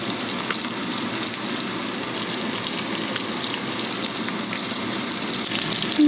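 Summer flounder fillets blackening in a pan of oil and butter give a steady, close, even sizzle that carries on unbroken throughout with no talk.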